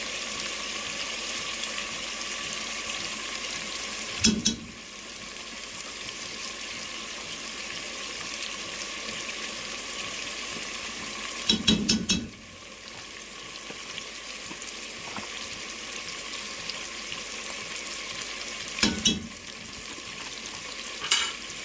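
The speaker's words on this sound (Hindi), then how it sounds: "तो मसाला डाल के भी आपने इसको 1 मिनट तक भूनना।" Biryani masala fries in a pan with a constant close sizzle, broken every few seconds by the scrape and clatter of a spoon stirring it.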